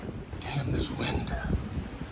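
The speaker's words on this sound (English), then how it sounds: "this wind." Wind buffeting a microphone outdoors, a steady rough rumble and hiss throughout, with muffled sounds mixed in.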